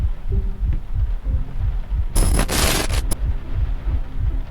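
Deep rhythmic heartbeat thuds pulse steadily through Layers of Fear, a horror game, over a low hum, with a brief harsh burst of bright static noise in the middle.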